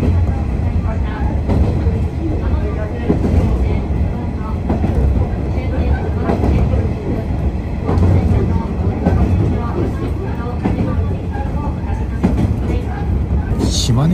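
A train runs on the Yamaguchi Line through a short border tunnel of about 1.5 km into Shimane Prefecture, with a steady rumbling roar and rhythmic wheel clatter heard from inside the carriage throughout.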